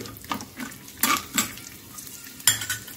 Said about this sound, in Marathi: तर याच्यात मी टाकून घेते लसणाच्या 8-10 पाकळ्या। याला पण आपण मस्त फ्राय करून घेऊ।